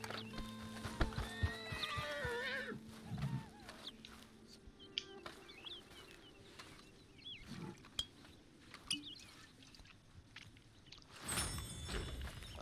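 A horse in a video game whinnies several times and its hooves clip-clop across the ground, with bird calls and wildlife noise in the background.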